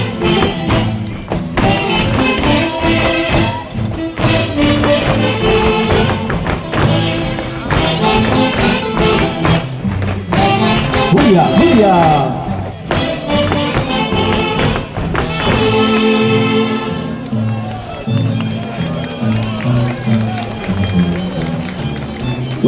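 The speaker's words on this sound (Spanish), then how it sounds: "ahí está la ovación del público" A festival crowd at the Tunantada celebration for San Sebastián and San Fabián claps and cheers loudly and continuously, mixed with music and a voice calling out a name.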